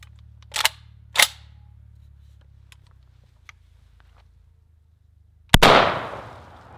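A shotgun fires a birdshot target load unsuppressed, one sharp, very loud blast with a ringing decay after a few quiet clicks and two soft thumps of handling. It is heard close up and with no talk.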